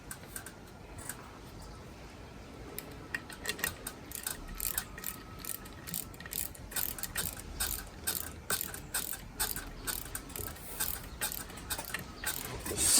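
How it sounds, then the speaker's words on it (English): A ratchet wrench snugs down the bolts holding the sector gear in the steering box of a Ford Golden Jubilee tractor, giving close, quick bursts of metallic clicking that grow busier toward the end. "we'll put 2 of our bolts in that holds this sector gear in"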